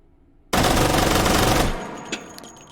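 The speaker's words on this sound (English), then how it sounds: "let's fire from the hip." Gun fired from the hip in the video game H3VR: a loud, dense burst of rapid automatic fire lasting about a second, then a fading tail with a couple of faint clicks.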